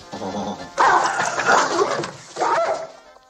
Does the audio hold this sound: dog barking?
yes